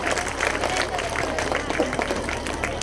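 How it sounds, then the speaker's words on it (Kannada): An audience at a kids' home annual day in Tindlu village claps and cheers to welcome the children, a dense, steady wash of applause mixed with crowd noise, heard close and filling the whole moment. "ಅವರಿಗೆ ಮತ್ತೊಮ್ಮೆ ಜೋರಾದ ಚಪ್ಪಾಳೆಯೊಂದಿಗೆ ಸ್ವಾಗತವನ್ನು ಬಯಸುತ್ತೇನೆ"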